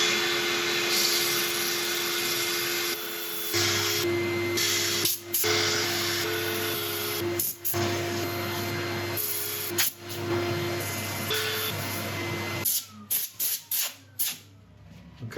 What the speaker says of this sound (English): Right, I'm going to set up for sanding.